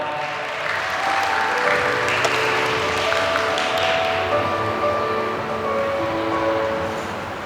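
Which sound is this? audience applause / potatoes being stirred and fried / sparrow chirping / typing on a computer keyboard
audience applause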